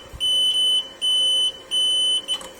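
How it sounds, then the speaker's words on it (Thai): A battery restorer sounds a high-pitched warning beep for reversed clamp polarity, three long steady tones with short gaps and a brief fourth start, loud and close with no talking. "จะมีเสียงเตือนนะครับ เสียงบีบแจ้งเตือนมานะครับ"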